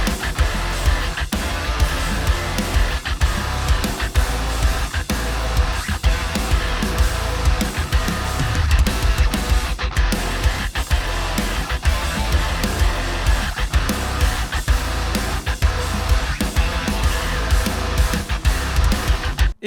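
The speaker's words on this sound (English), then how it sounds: "how you can program drums so that they sound like this" A dense, heavy guitar riff pounds along with punchy, tightly programmed drums, loud and continuous throughout.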